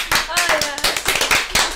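Clapping rings out at the start of a live podcast episode, a quick, uneven patter of claps over about two seconds with a voice mixed in beneath.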